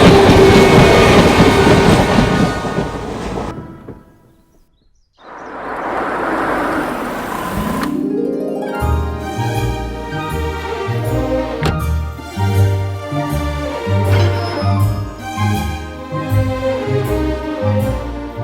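A train rumbles along loudly with a steady clickety-clack over the rails, briefly dropping away before the rolling carriage noise returns and continues.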